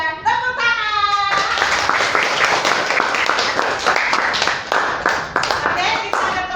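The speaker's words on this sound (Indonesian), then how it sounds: "Tepuk tangan." A group of children claps hands together in a classroom activity, a lively, fairly loud burst of fast uneven clapping that follows a brief stretch of an adult voice speaking.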